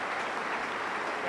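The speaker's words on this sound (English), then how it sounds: "sympathetic applause from both sets of supporters for the French international" Both sets of rugby league supporters at a 2010 Featherstone versus Castleford championship semi-final give sympathetic applause as an injured player is stretchered off, a steady broad roar of crowd clapping throughout.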